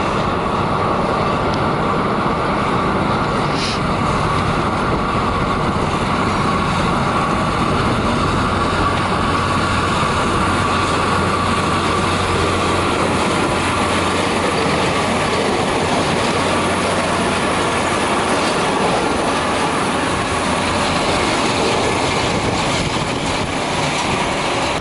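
A cog railway train on Mount Washington rumbles steadily along the tracks close by, with a continuous low mechanical roar and faint clanking, no voices.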